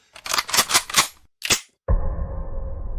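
Several rapid gunshots crack out in a quick burst, then one more sharp shot follows after a short pause, giving way to a steady low rumbling drone in a Chinese action film scene.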